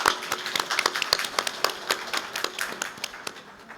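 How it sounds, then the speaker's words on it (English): A modest audience at a Mother's Day celebration gives officials and consuls a round of clapping, individual claps distinct and irregular, fading toward the end. "Please give our government officials and consuls a warm round of applause."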